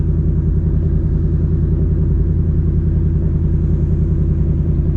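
A 2024 Ford Mustang GT V8 in sport mode sits with a loud, close, steady low engine rumble that holds an even pulse throughout, with no voices.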